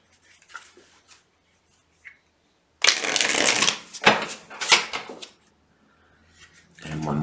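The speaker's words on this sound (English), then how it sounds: "And one more shuffle." Tarot cards being shuffled by hand, a few faint taps first, then bursts of riffling and flicking in two or three close, fairly loud runs, ending with a soft voice.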